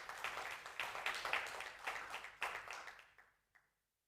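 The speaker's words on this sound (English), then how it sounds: "Let's give that a hand of applause." Applause at an annual general meeting, a hall audience clapping together for several seconds, loud and dense at first, then thinning out and fading into scattered last claps.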